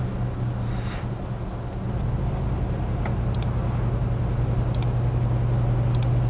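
A 1979 Ford F150 4x4 with a 400 engine driving through a corner gives a steady low engine drone with road and wind noise. A few brief clicks sound over it, and no voices are heard.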